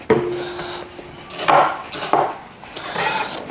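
A knife cuts zucchini into thick cubes on a board, giving a few distinct, fairly loud chopping knocks with pauses between them and no talking.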